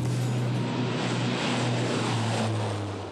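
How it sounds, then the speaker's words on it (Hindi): Military transport aircraft, a C-295 and two C-130s, flying past in formation at a Republic Day flypast, giving a loud, steady propeller drone with a sustained low hum throughout. "अर्जुन फॉर्मेशन में एक C-295 और 2 C-130 विमान अपने प्रदर्शन से आपको रोमांचित कर देंगे।"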